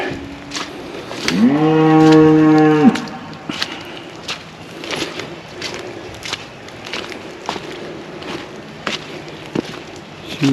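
A cow on a small cattle farm lets out a single long, loud moo that swells and cuts off, followed by scattered footsteps and light outdoor rustling.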